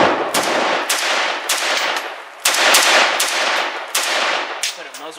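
Swiss SG551 carbine fitted with a muzzle brake fires about six loud, sharp shots at an uneven pace, each crack trailing into a long echo.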